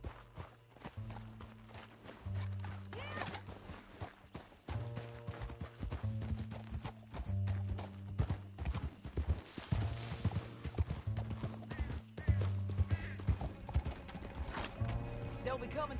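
A horse in Red Dead Redemption 2 clip-clopping in a steady, rhythmic gait with an occasional snort or whinny, all over a low, repeating game music bed; the hoofbeats stay close and fairly loud throughout.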